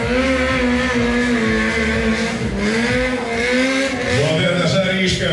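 Pit bike motorcycle engine racing at a Cossacks Pitbike Cup round in Poltava, loud continuous high-revving whine with shifting pitch as the bike accelerates and backs off, close and dominant throughout.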